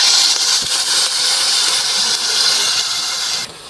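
Water poured into a hot pan of browned fried onions gives a loud, sustained steamy hiss that drops off sharply near the end.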